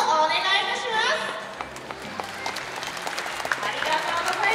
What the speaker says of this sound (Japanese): 皆さん、アースへの大きな拍手をお願いいたします。